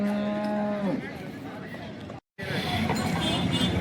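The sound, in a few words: cow mooing at a cattle market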